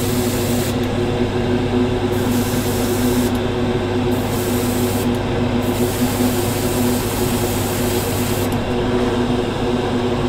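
Paint sprayed onto a small part of a 1/48 scale Spitfire model: a steady close airbrush hiss with a few short pauses between bursts, under a constant compressor hum.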